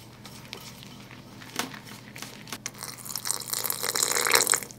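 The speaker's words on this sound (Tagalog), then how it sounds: "Nagbuhos lang ako ng konting tubig" A little water is poured into a bowl of breading and egg batter for frying tofu, a soft trickle that swells louder toward the end after a few quiet kitchen clinks.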